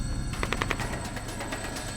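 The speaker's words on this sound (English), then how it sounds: "Ignoring all the gunfire" Rapid bursts of gunfire crackle in quick succession over a low rumbling helicopter engine drone, fairly distant and somewhat muffled.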